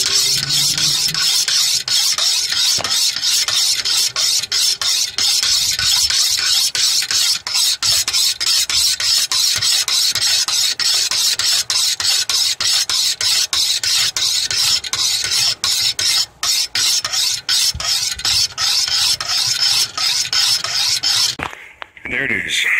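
A butcher knife is drawn across a 200 grit sharpening stone in fast alternating strokes. The gritty rasping runs loud and close for about twenty seconds, then breaks off briefly near the end.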